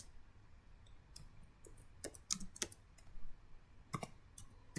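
Router commands being entered on a computer keyboard make a quick, irregular run of close key clicks, with denser bursts in the middle and a sharper cluster near the end, and no one speaking.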